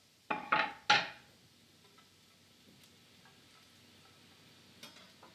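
Shallots dropped into a hot pan while cooking beef tips, giving a few sharp crackling bursts up close, then a faint, fading sizzle with a couple of soft clinks near the end.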